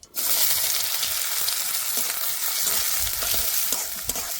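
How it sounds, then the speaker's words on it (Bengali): Chopped onions with whole cumin seeds fry in hot white oil in a wok, a steady loud sizzle that runs unbroken throughout with faint stirring. "পেঁয়াজটা লাল লাল করে ভেজে নেব।"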